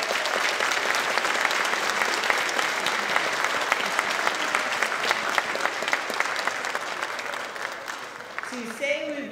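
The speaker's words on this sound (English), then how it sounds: "give each other a round of applause" An audience at a school district Innovator of the Year awards ceremony applauds, a sustained, dense wash of clapping that stays even and fairly loud before tapering slightly at the end.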